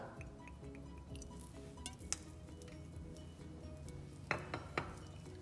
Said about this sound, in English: let me mix it together nicely